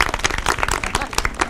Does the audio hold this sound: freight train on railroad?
no